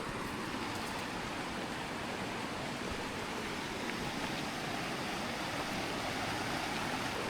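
A pretty river flows steadily nearby, a dense, even broadband rush of moving water that holds at a constant level throughout, with no voices over it.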